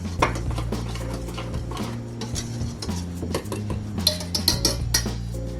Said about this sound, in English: So don't be afraid to, get in there and whisk everything together.